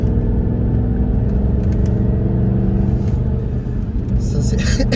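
Porsche Cayenne S engine heard from the cabin as a steady low rumble and drone throughout, with voices talking over it.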